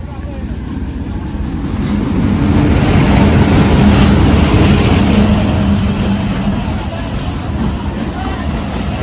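A train at a level crossing without a gate near Khoksa, Bangladesh, rumbles as it starts moving, its low roar swelling louder over a few seconds and then holding steady, with faint voices of a gathered crowd in the background.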